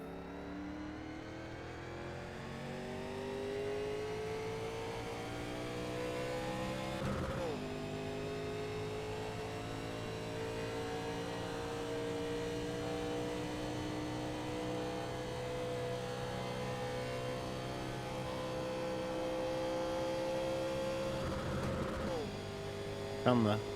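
NASCAR race car engine in iRacing at Talladega, a long steady high-pitched drone held near the rev limiter with slight pitch drift and a couple of brief shifts, someone talking over it.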